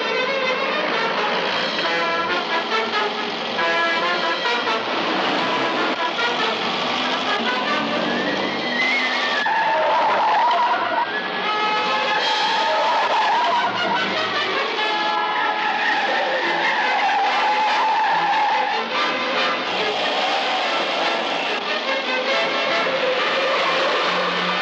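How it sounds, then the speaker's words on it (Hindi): Car tyres skid and squeal loudly and almost without pause during a car chase, with the roar of an engine underneath and no talking. "मैं गाड़ी का पीछा कर रहा हूँ।"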